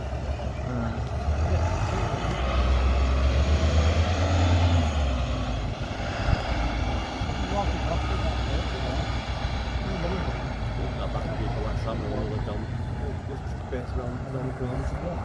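A coach pulls away during a parallel parking manoeuvre at a Blackpool coach rally, its deep engine rumble swelling close by and then settling into a steady drone, with voices talking over it.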